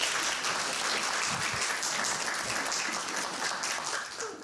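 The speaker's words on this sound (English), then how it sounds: "Everyone, please, a huge round of applause for Dr." A crowd applauds Dr. Sylvia Earle at a World Oceans Day event, with dense, sustained clapping that stays loud throughout and tapers slightly at the end.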